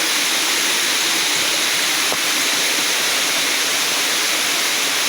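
The steady, full roar of Yaganak Falls pours without pause, a dense wash of falling water heard up close and alone with no voices over it.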